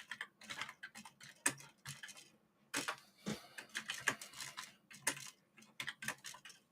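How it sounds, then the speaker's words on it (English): Small fingers click quickly across computer keyboard keys in uneven bursts and pauses, close and fairly quiet, with no talking. "your little fingers are clicking them keys"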